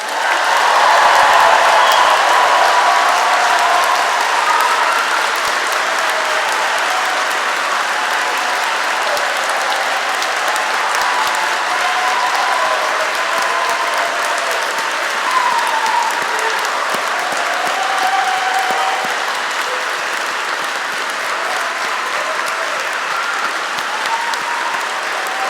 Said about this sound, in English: please join us in giving all our graduates one final round of applause